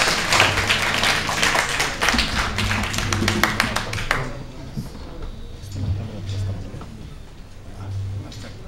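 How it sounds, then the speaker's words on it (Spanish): Applause for a musician at an evening museum event: a burst of hand clapping from a crowd that stops abruptly midway, then quieter room noise with a low hum. "un aplauso para Eleazar"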